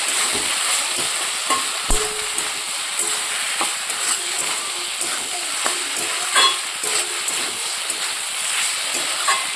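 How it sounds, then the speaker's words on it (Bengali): Pieces of fried dupuri fish turned over in a pan, a steady bright sizzle with scraping stir strokes and small clinks throughout, fairly close, no talking. "ভেজে রাখানো দুপুরি মাছ এবার নাড়াচাড়া করে দেবো"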